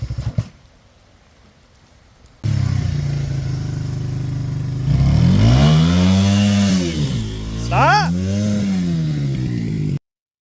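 A Honda XR80 dirt bike starts up after a near-silent pause, then revs and rides off with a buzzing, rising and falling engine note that is loud and close and holds steady to the end.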